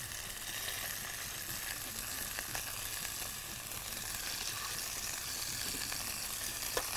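Rabbit meat searing in a hot pan, a steady, soft hiss of frying that holds evenly throughout with faint crackles and small pops.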